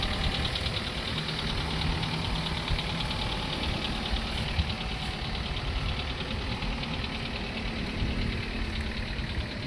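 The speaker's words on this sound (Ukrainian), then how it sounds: "Двигун не троїть, працює рівномірно диму ніякого немає." A 2017 Ford Focus 1.6-litre petrol engine idles smoothly and evenly at close range, a steady mid-pitched hum with a faint fast ticking, unchanging throughout, no voices.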